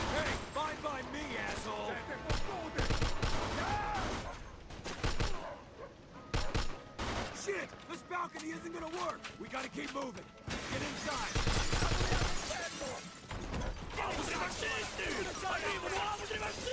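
Long, heavy bursts of machine gun fire in the Mafia 2 video game roar in waves with brief gaps between them, while someone talks excitedly over the shooting.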